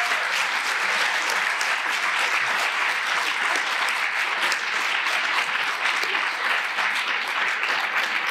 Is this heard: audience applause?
yes